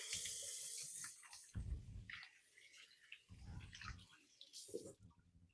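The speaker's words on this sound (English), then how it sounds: "I'm gonna give my hands a good wash here." Hands are washed under a running kitchen tap at a sink, with a steady hiss of flowing water broken by splashing and gushing surges as the hands move, close and alone.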